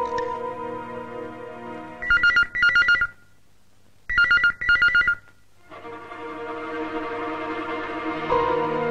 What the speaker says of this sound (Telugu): ఆఫీస్లో ఫోన్ రింగ్ అవుతుంది, ఎవరు ఎత్తడం లేదు.